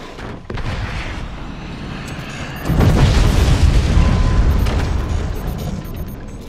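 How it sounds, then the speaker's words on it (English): Heavy 22 millimeter cannon fire in the Forts multiplayer game, a dense rumble of booms that swells louder about midway and keeps pounding steadily to the end, with no talk over it. "Pounding us with 22 millimeter cannons."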